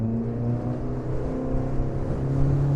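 Outboard motor on a Quintrex 460 Renegade side console boat carrying two adults, accelerating from 1,000 toward 5,000 RPM, a close, steady engine drone whose pitch climbs gradually, with no talk.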